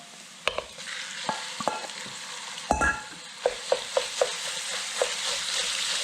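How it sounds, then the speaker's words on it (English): Minced meat sizzles in a pan while a utensil stirs it, giving a soft continuous frying hiss broken by sharp scraping knocks against the pan, with no voices. "We're going to cook this mince until it's brown."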